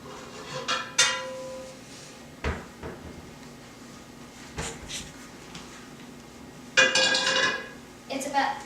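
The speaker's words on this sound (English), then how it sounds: "I'm going to go grab a pan or skillet, whatever you'd like to call it" Kitchen cookware being handled: a pan or skillet is pulled from a cupboard, giving a few scattered clunks and clinks spread over several seconds, with one brighter metallic clatter near the end, at close range and with no speech.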